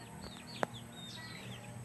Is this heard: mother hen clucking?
yes